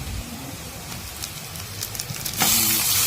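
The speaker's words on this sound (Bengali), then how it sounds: "তো দেখুন এখানে পেঁয়াজটা আমাদের ভাজা হয়ে গেছে" Sliced onions fry in a pan for a mustard-paste rohu fish curry, giving a continuous broadband hiss of sizzling oil that grows louder and brighter in the last second. There are no voices.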